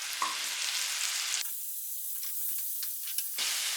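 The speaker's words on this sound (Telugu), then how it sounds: "ఇప్పుడు మనము 2 టమాటాలు ఈ విధంగా చిన్న ముక్కలుగా కట్ చేసి ఇందులో యాడ్ చేసుకుందాం" Chopped tomatoes fry for prawn masala in a hot pan, a steady bright sizzle and hiss that drops briefly to a thinner crackle before swelling again, close and without talk.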